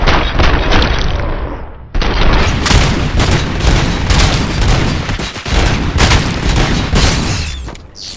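Sustained heavy gunfire in the video game RoboCop Rogue City, with dense automatic bursts and booming shots that fill the whole stretch at loud, close range, broken only by a momentary gap.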